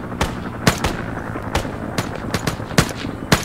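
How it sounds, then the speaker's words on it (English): An ammo box in Arma 3 cooks off with a string of sharp, irregular cracks and pops like firecrackers, about ten close, loud bursts over a steady background hum with no talking. "You know you don't destroy them when they start going off like a firecracker, like you destroyed an ammo box."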